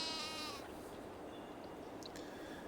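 A sheep bleats loudly at the start in Farming Simulator 22, a wavering nasal cry that fades, followed by quiet ambient game noise and a faint high tone.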